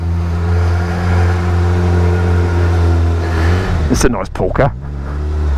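A 2021–2022 Suzuki Hayabusa's engine idles with a steady low hum, then rises as the bike pulls away, while someone speaks briefly near the end.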